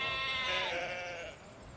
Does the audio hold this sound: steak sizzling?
no